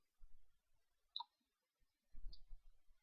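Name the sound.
computer mouse clicking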